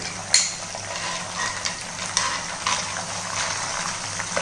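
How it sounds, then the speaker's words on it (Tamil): Herbal ingredients for a homemade hair oil spatter into very hot oil in an iron kadai: a steady close crackling hiss, with a couple of sharp pops near the start and middle. "ரொம்ப எண்ணெய் சூடாக இருக்கிறதுனால இது போடும்போது டப்புன்னு கொஞ்சம் தெரிக்கும்"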